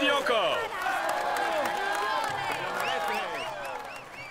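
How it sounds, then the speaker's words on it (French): A crowd cheers, whistles and applauds at the stage podium in the Tour de France 2017 video game, a dense, loud, continuous roar of voices and clapping with rising and falling whoops. "Allez, on l'applaudit encore."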